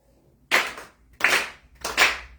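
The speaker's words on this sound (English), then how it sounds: "4 sincere claps" Sharp ritual hand claps ring out during a Shinto monthly service, three crisp, evenly spaced claps, each with a short room decay, in otherwise quiet surroundings.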